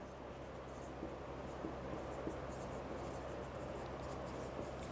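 Chalk or marker scratching across a classroom board in a biology lecture, a steady scratchy texture with faint tapping strokes over low room hum, no voice.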